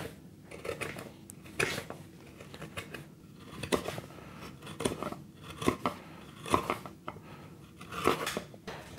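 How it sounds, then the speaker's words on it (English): A hand-held chisel slicing across the end grain of a wooden seat tenon on a perch stool, giving a series of close, dry scraping and crunching strokes at an irregular pace with short pauses between cuts. "I'm gripping the chisel, and as I pull my fingers closed, I'm slicing the chisel towards me"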